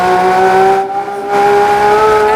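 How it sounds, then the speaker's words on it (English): Recorded Porsche 911 GT3 RS engine on track, played loudly through a speaker, roars at a steady high pitch with a brief dip as it shifts, then climbs again, full and continuous. "you can listen to Randy Popst tracking a 911 GT3 RS"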